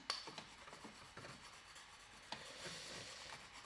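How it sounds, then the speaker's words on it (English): A gouge hand carving wood on the edge and feathers of an eagle, giving soft rasping cuts and scrapes in short irregular strokes, close but quiet, with a sharper knock near the start and another midway. "a little bit of carving on the edge, carving the other way on the feathers"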